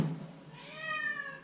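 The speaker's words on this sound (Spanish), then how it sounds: "el gato empezaba con su show del maullido" A house cat gives a single drawn-out, rising-and-falling meow, close and clear after a brief soft thump, in a quiet room.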